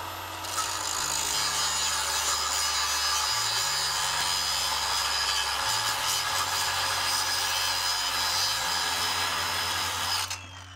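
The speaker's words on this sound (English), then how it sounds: "just get to grinding the head off of that bolt" An angle grinder cuts the head off a rusted exhaust bolt under a 1995 Ford Escort wagon, a steady, loud abrasive whine running almost continuously for about ten seconds, its motor pitch dipping and recovering as the wheel bites, then stopping abruptly.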